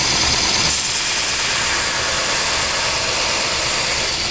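A bench grinder and dust extractor running together while a knife handle is profiled, giving a loud, steady broadband whir that holds evenly from start to end.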